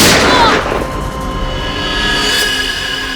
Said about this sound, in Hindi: उसके बाद दूसरी गोली चली